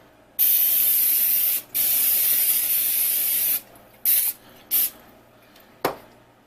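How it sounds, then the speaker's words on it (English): Aerosol cooking spray hissing onto bread baking pans, one long burst, a second longer burst, then several short spritzes, close and loud with nothing else heard. "I spray my pans."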